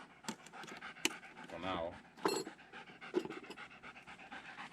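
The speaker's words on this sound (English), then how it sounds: "the puppy dog is there" A puppy pants in quick, steady breaths close by, with a few sharper bumps mixed in and a person speaking briefly over it.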